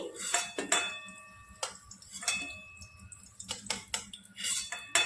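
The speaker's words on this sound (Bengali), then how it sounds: "আলুগুলোকে এবার আমি নামিয়ে নিচ্ছি।" Fried potatoes being lifted out of a pan with a metal spatula, giving sharp scraping and clinking strikes against the pan at irregular intervals, close and moderately quiet, with no talking.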